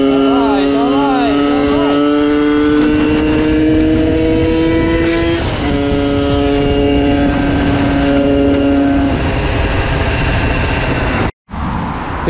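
A scooter engine runs steadily while being ridden at sunset, its buzzing drone rising and falling with speed changes over a loud, constant roar of wind and road noise.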